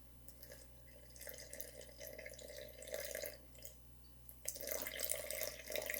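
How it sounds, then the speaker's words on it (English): Water poured into a sourdough starter of flour and water, a faint trickling and dripping stream that picks up toward the end, with no talking. "I'm going to be adding 90 grams of water to this"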